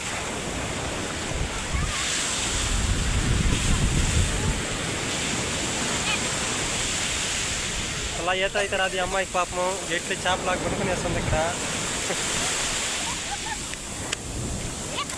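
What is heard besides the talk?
sea waves at Pambal beach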